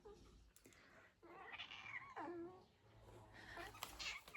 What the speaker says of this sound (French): il y a une minoupette qui miaule